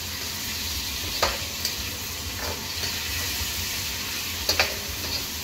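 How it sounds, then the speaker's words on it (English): Spring onions and capsicum sautéing in a pan over low to medium heat, a steady soft sizzle with a few faint clinks of slow stirring, close and without talk. "Slow stir."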